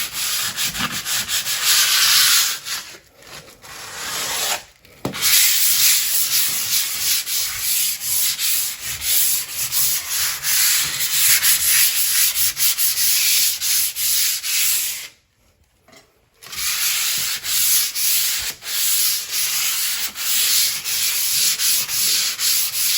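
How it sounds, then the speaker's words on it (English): Light hand sanding of a coat of joint compound on baseboards, a steady near scratchy rubbing that runs throughout, with brief pauses around the third, fifth and fifteenth seconds. "now what I like to do is I do a light sanding"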